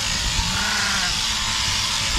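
Sheep at a January shearing give a drawn-out bleat that wavers over steady, loud background noise, heard at a moderate distance with no talking.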